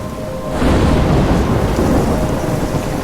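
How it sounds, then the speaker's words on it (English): Stormy rain pours steadily in the Life is Strange video game, a loud broadband wash with deep rumbling thunder swelling in after a quieter half-second opening and holding for the rest. "I'm trapped in a storm?"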